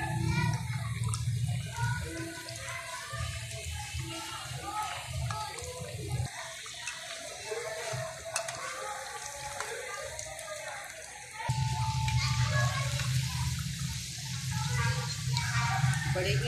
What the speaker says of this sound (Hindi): देखिए बड़े ही अच्छे फ्राई हो रहे हैं।